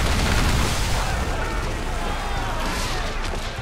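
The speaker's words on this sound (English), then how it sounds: "As we get in close, we're going to unleash the heavy shot." Heavy-shot naval cannons fire from a sailing ship in Assassin's Creed 4 Black Flag, a dense, loud volley of booming blasts with crackling debris that rolls on throughout, while a narrator talks over it.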